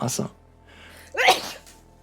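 A single sharp sneeze rings out close by, framed by brief talking before it and a quiet stretch between.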